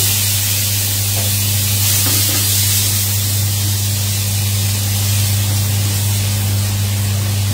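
Grilled fish and potatoes sizzle in butter in a pan, a loud, steady hiss with a constant low hum beneath it, unbroken throughout and with no voices.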